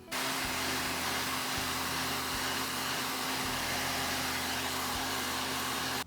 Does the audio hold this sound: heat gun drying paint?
yes